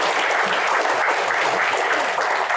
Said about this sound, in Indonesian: tepuk tangan untuk Pak Jaksa Agung.